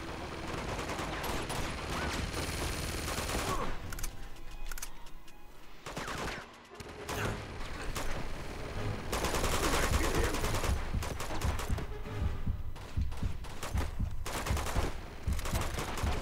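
Enemy gunfire in Uncharted 2: Among Thieves, rapid automatic bursts and overlapping shots rattling on and off for a long stretch, briefly thinning out midway before resuming at full intensity.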